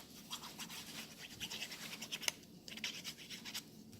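Tombow liquid adhesive being applied to a paper gift card, faint close scratchy rubbing in quick irregular strokes with small ticks, no one talking.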